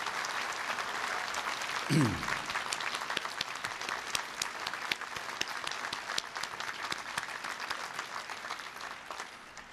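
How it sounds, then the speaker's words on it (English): Commencement crowd at Rice University applauding the faculty seated on stage, a broad sustained wash of clapping from many hands, moderately distant and continuous throughout, with a brief voice near the start. "Please give a round of applause to the faculty of Rice University"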